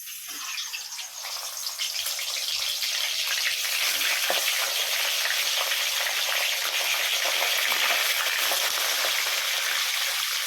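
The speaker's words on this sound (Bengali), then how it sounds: "এবার কিন্তু এই মাছের মাথাটা তেলের মধ্যে দিয়ে দিচ্ছি" A fish head drops into hot mustard oil for muri ghonto, and a loud crackling sizzle rises after a second, then holds steady and close.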